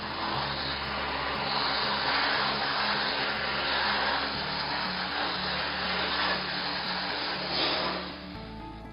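A MondoVap 2400 steam vapor cleaner fitted with a turbo nozzle runs with a steady, loud hissing roar that stays constant for several seconds, then drops slightly at the end, with no one talking.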